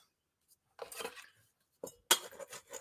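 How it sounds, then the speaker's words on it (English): A spoon mixing superfood salad toppings in a bowl, producing bursts of scraping and light clinking separated by brief silences, close and fairly quiet. "Just going to get a spoon and mix it all up"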